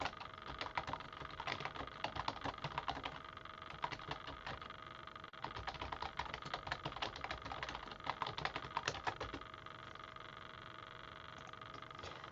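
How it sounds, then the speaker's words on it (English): Rapid clicky typing on a computer keyboard, a steady stream of light keystrokes with brief pauses, close and fairly quiet with no talking. "I'll type it out for you."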